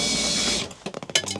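A power drill driving self-tapping screws outdoors as they fail to bite: a steady motor whir for about half a second, then a pause and a string of sharp clicks and knocks.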